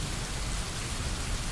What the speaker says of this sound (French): On se trouve sous un pont parce qu'il pleut, donc on attend que ça passe.